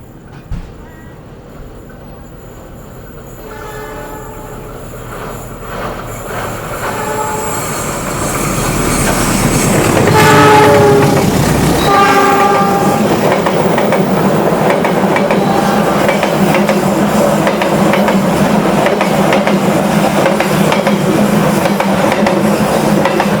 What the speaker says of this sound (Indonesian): itu tadi kita berpapasan dengan kereta api Parahyangan dari Gambir